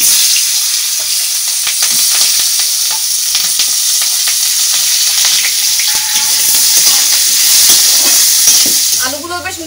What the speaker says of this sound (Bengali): এবার করলা ভাজার এই তেলটাতে আলুগুলো ভেজে নেব।